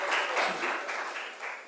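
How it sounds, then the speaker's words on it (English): Applause from a seminar audience at a national workshop on hydrogen fuel technologies, a steady wash of many hands clapping at moderate distance, fairly faint and alone, with slight pulsing swells. "They have clapped already."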